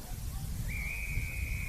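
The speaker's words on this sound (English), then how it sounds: "The umpire is doing a lot of whistling out there" Umpire's whistle at an Australian rules football match in the NTFA Premier League: one sustained, steady blast of about a second, moderately clear above a constant low crowd and wind rumble.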